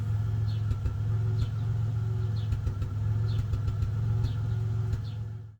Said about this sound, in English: Every time that you hear a pop is the sound of a cylinder misfiring.